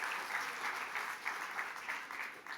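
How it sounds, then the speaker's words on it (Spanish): A church congregation claps together in a steady, fairly distant wash of applause that carries on evenly throughout. "dele fuerte el aplauso al Rey de Reyes y Señor de Señores."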